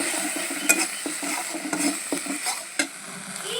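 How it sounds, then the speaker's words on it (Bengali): Spice paste and tomatoes fry in a pan for a fish curry, a soft steady sizzle broken by irregular scrapes and clinks of a spoon stirring against the metal. "মশলাটা ভাজা হয়ে যাচ্ছে, আমি টমেটোগুলো দিয়ে দিলাম। টমেটো দিয়েও আমি একটু ভালো করে ভেজে নেব।"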